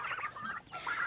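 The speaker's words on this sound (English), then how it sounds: "Hi, turkeys." Turkeys on a small farm calling in a close, continuous run of gobbling and clucking poultry sounds, loud and alone with no talk.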